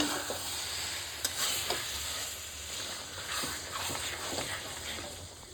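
Mutton is sautéed in a pot with a steady close sizzle, while a spoon scrapes and stirs at irregular intervals.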